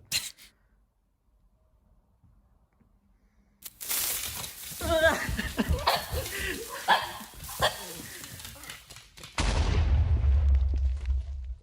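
In a horror video game, an explosive stitch blows up with a loud, low rumbling burst that lasts a couple of seconds, following a near-silent stretch and then busier, voice-like game sounds.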